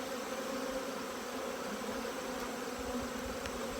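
Honeybees just shaken out of a hive fill the air with a continuous, dense, even buzzing hum, steady throughout and moderately quiet, with no voices.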